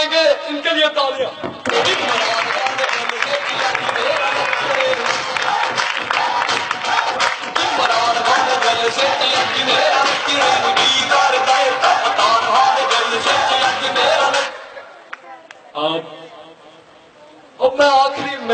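Crowd at a comedy event in Pakistan applauding and cheering, a loud, dense wash of clapping and voices lasting about thirteen seconds before cutting off, with brief bursts of speech around it.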